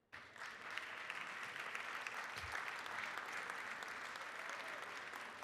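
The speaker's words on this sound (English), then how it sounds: "can we give a round of applause for our outstanding citizen, Deriki Gayuka." Sustained round of applause from members in a legislative chamber, steady and dense for several seconds, filling the room evenly without voices over it.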